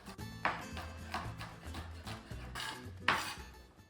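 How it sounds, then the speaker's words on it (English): Knife chopping shallots on a board in a kitchen, a steady series of sharp, close taps and clacks in an uneven rhythm, with no voices. "Slice the shallots really good."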